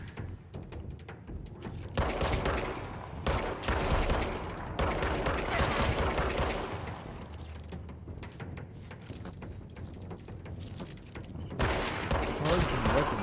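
A charging weapon firing in the Control video game, giving long sustained bursts of rapid crackling gunfire with brief gaps between volleys, loud and continuous, with mechanical rattles mixed in.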